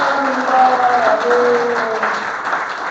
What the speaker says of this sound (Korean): 우리 하나님께 모든 영광의 박수 올려드리겠습니다